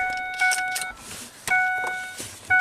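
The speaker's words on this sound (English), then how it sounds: "and I stuffed it in here, and the car started up." A 2006 Ford Freestyle being worked on for a no-crank fault gives a few short bursts of steady electronic warning chimes, close and alone, with faint clicks and rustling between them and no clear engine catch.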